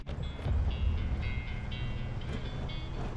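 A train at Spandau station in Berlin rumbles low and steady, with faint metallic squealing tones riding over the noise.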